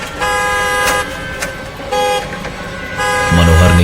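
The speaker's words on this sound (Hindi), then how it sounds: "उस कार का हॉर्न ऐसे बजा जैसे कोई अंदर बैठकर बजा रहा हो" A car horn sounds in several sustained blasts that start and stop. A voice speaks over it, and a low hum comes in near the end.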